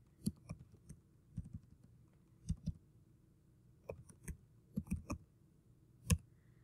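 Fingers tap on a computer keyboard in short, irregular bursts of quiet clicks, close up in a silent room.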